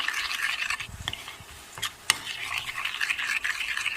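Onions with salt, red chilli and turmeric stirred in a pan, a scraping stir with light sizzle and a few clinks of utensil on metal, near and steady, no talk.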